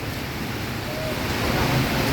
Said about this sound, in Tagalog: Lakas ng hangin mga kabiyahe.